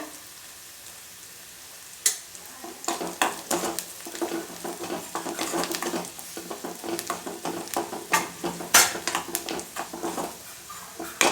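Food cooks in a pan on a low flame for a breakfast dish, giving a busy, continuous crackle and sputter with scattered clinks of stirring against the pan, close and fairly loud, with no talking.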